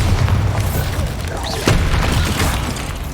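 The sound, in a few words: Bombarda spell explosion in Hogwarts Legacy video game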